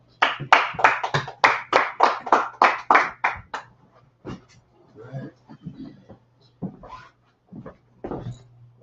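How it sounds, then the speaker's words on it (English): A short burst of about ten distinct, evenly spaced claps at a religious scripture and law class, loud and close, then fading into scattered soft sounds and murmuring voices. "Man, clap it up."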